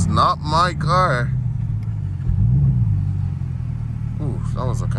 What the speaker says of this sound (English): that was a kind of rough downshift right there